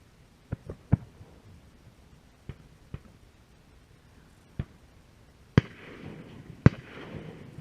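Scattered shotgun blasts from other duck hunters on the Utah duck opener, sharp distant-to-mid-range booms popping irregularly, about eight shots over quiet marsh air, a couple landing close together near the end.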